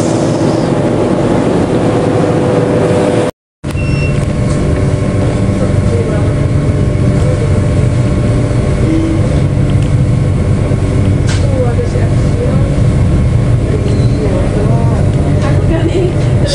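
Steady rumble and clatter of the Ranggajati executive passenger train rolling out of Madiun station, heard from inside the carriage as a loud continuous drone with a brief dropout near the start.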